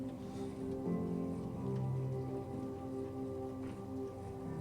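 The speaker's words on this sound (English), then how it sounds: "today it is raining in California. All the street gutters are flooding with water." Rain falling in Minecraft, with the street gutters flooding: a steady, close, even hiss of rain on surfaces, continuous and without voices.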